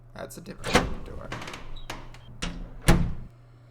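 A door opens in the video game Home, heard as a run of close knocks, creaks and thuds over a low hum, with a final heavier bump near the end.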